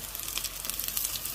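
Falafel shallow-frying in a pan gives a steady, soft crackling sizzle, close and fairly quiet, with no voices over it.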